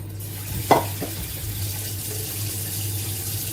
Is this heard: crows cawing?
no